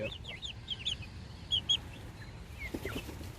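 Delaware chickens cluck and chirp softly in short, scattered calls, faint against quiet background noise.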